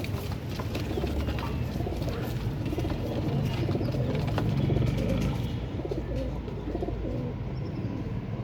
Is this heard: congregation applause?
no